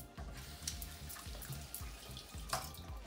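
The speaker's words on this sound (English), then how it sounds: "we're gonna give it a quick rinse" A kitchen tap splashes steadily as cabbage is rinsed under it, with a close, continuous gurgling flow and a few brighter splashes and knocks.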